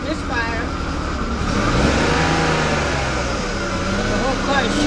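A BMW 5 Series engine idles rough with a misfire, a continuous loud uneven rumble up close while someone talks over it.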